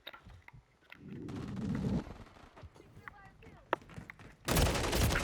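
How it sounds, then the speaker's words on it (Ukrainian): Bursts of Call of Duty: Modern Warfare 3 gunfire crack and rattle between excited shouting, ending in a loud blast of noisy fire. "Эти ультранационалисты по мені стріляють."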